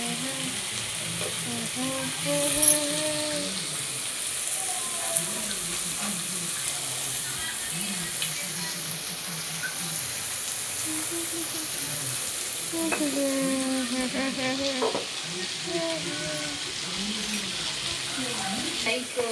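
Capsicum palya stir-frying in a pan at home, with a steady close sizzle, scraping spatula strokes and an occasional clink, while voices talk intermittently in the background.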